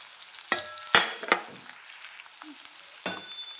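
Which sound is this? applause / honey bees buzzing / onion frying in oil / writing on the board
onion frying in oil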